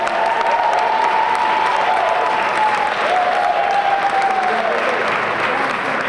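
An awards-ceremony audience at the Women of Action Awards in Jersey City claps steadily for a medal recipient, a dense, loud, sustained round of applause with a faint tonal whistle running through it.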